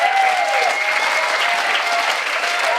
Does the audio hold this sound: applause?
yes